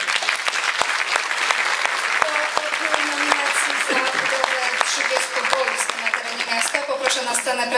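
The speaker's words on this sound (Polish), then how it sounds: "a państwa proszę o klaski" Audience applause at a Polish award ceremony for the Ostrowianin 2010 plebiscite, honoring a Third Age University nomination; steady, dense clapping throughout, with crisp individual claps and faint voices murmuring beneath.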